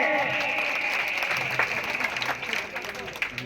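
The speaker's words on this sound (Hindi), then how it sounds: "जोरदार ताली" Loud audience applause at a Ganesh festival program welcoming workers, steady dense clapping that slowly thins out toward the end.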